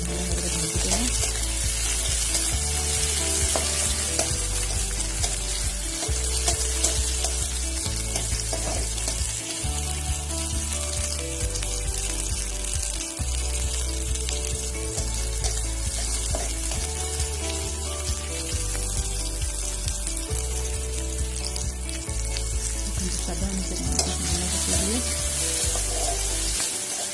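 Tomatoes and onion fry in a pan for rava upma, giving a continuous crackling sizzle that carries steadily throughout, with faint stirring and a low-pitched background tone repeating underneath and no voices.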